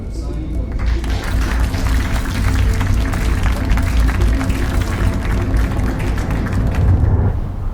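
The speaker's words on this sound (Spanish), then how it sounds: "El acuerdo entre la Unión Europea y Mauritania se firma entre aplausos." A room applauds as an agreement between the European Union and Mauritania is signed. Dense clapping runs without a break and stays loud and close throughout.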